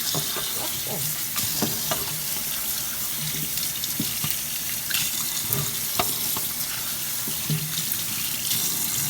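Running tap water pours steadily into a kitchen sink as grapes are rinsed for grape ginger juice, with soft splashing and occasional clinks of fruit against the basin throughout.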